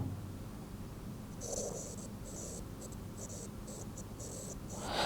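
Rapid scratchy tapping of an S Pen stylus writing on a Samsung Galaxy S22 Ultra screen, in short repeated bursts, close up over a low steady background hum.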